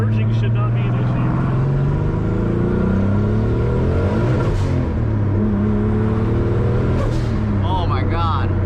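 Turbocharged L28 engine in a 560 hp Nissan 240Z pulling hard on a freeway, a loud rising engine drone with whooshing turbo whir heard from inside the car, while people talk and exclaim over it.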